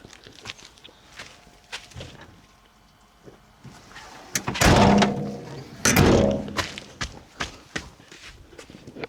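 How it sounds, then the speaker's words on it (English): Van doors in a forest are pulled shut, giving two heavy, close slams a couple of seconds apart amid lighter shuffling knocks and footsteps. "I'm gonna get these doors closed really fast"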